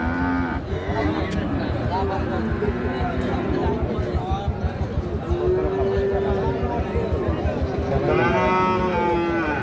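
A young Australian-breed bull, roughly eight or nine months old, gives long, low moos at a Kishoreganj cattle market, heard close over continuous crowd chatter and bargaining voices.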